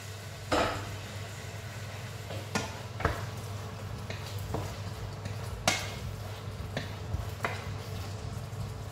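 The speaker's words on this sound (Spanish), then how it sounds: "A pochar despacito" Chopped peppers and tomato gently sautéing in a pan, giving a faint steady sizzle with occasional clicks and scrapes of a utensil against the pan over a low background hum.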